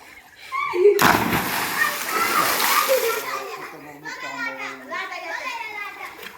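A child jumps into farm well water with a loud cannonball splash, followed by sloshing and churning water while children shout and talk excitedly.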